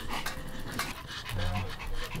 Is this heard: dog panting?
yes